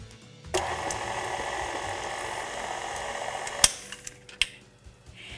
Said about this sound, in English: now we can add our eggs to the cream cheese mixture and do one final mix.